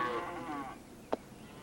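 Ranch cattle give a single low, drawn-out moo close by, which fades into quiet with one sharp click afterward.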